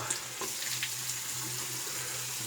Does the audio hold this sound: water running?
yes